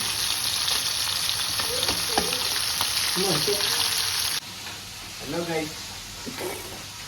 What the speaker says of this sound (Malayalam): അതിനെ നമ്മൾ തവ ഫ്രൈ ചെയ്യുക. ഫിഷ് ഗ്രിൽ, ഫിഷ് തവ ഫ്രൈ.